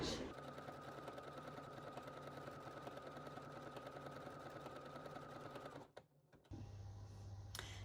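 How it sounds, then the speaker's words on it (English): A sewing machine runs a decorative top stitch on quilt-bag fabric, giving a steady, rapid, close whirring hum for about six seconds. It stops briefly, then the motor hum resumes. "I'm going to top stitch using a fancy stitch"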